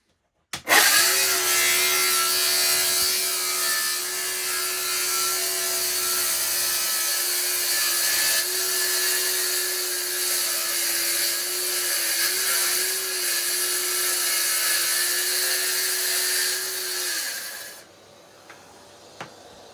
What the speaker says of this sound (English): we've just finished the cut freehand on the saw now